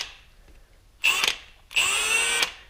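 A Milwaukee M18 Fuel cordless impact gun fires in two short bursts, a brief whirring hammer followed by a longer one, loud and close in a quiet workshop, with no voices.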